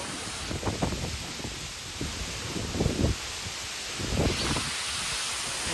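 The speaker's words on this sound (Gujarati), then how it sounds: "તો મિત્રો આમ જો પવન એને એકદમ બહુ જ પવન છે જો" Strong wind gusts rush past in several surges, buffeting loudly against a continuous background roar.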